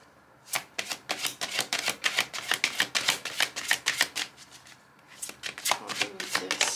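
Oracle cards are shuffled and drawn by hand in a quiet room, giving a quick run of crisp, close riffling flicks and slaps with a short pause partway through before the shuffling resumes.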